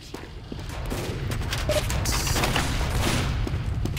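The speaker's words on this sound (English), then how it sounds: "Quit shooting me, man." Rapid gunfire from the Team Fortress 2 video game, a dense, steady stream of shots with a few louder bursts, running continuously under game ambience.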